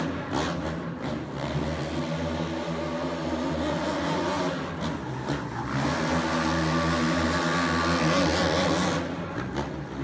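A 450 motorcycle engine revs loudly throughout, with a couple of sharp throttle blips as the rider drives into a corner at the Red Bluff track, steady and close with no talk.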